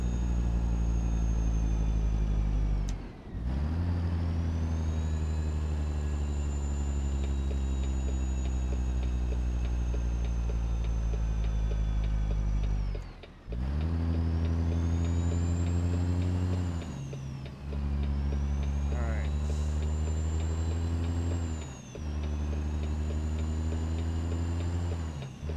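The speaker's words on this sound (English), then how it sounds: "Yeah, this truck is actually gaining speed up the hill." An 18-speed semi truck engine in American Truck Simulator drones loudly and steadily while climbing a hill, with sharp dips at each gear shift before the pitch rises again.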